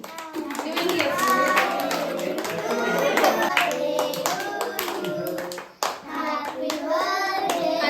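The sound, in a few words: family clapping at a birthday celebration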